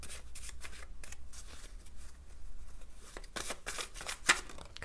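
Cards from a self-made tarot-style deck are drawn and slid against each other in soft, papery rubs and flicks, with a few sharper snaps near the end and no talking.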